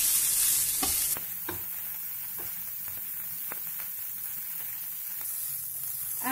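Rice seasoned with salt and Worcester sauce is stirred and fried in a pan, a steady sizzle with a louder burst at the start and a few soft scraping strokes of the utensil.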